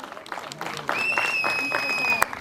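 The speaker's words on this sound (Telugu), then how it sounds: "అందరు గట్టిగా క్లాప్స్ అండి, గట్టిగా." Loud applause from the audience at a Rotary centennial function, a sustained dense clapping wash building after the first second, with voices mixed in.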